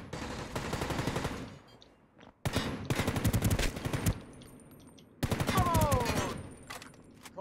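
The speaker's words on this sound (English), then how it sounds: "Why'd you shoot me?" Automatic gunfire in the video game ROE comes in three long bursts of rapid, loud shots separated by brief pauses, with fainter scattered shots between them.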